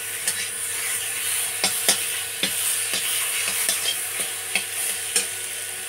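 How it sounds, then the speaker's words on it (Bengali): Taro pieces fry in hot oil in a pan for a crab curry, a steady close sizzle broken by regular sharp scraping clicks of stirring. "কচুটা লাল করে ভাজা হবে,"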